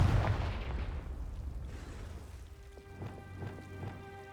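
A Confringo fire spell blasts in a wizarding video game, opening with a loud rumbling burst that fades into crackling debris, followed by several short, sharp impacts over a steady hum.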